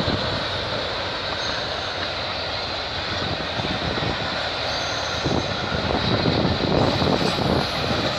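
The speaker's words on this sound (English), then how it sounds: "I just barely got this 149 CN train" CN freight train number 149 rolling past in Milton, Ontario in the evening, a steady loud roar of wheels and rail noise that holds throughout, with rhythmic clatter building in the second half.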